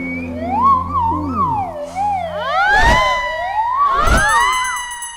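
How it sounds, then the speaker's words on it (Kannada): In a Kannada comedy film scene, a wailing police-style siren rises and falls loudly, with overlapping whoops and bright electronic sweeps and two heavy thumps in the middle. "ಸೈರನ್ ಸುರಾಯ್ತಲ್ಲಪ್ಪ."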